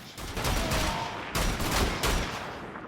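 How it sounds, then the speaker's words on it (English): Schockhammer weapon fired in Wolfenstein: The Old Blood, heard as three heavy, loud, close blasts, each with a crackling roar, set about half a second to a second apart, with no speech. "And that's the Schockhammer."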